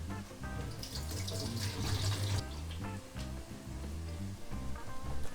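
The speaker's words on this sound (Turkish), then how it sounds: "Kavrulmaya devam ederken biz patlıcanlarımızın suyunu dökeceğiz" Water pours off eggplants into a sink in a steady, close splashing stream that stops briefly and then resumes.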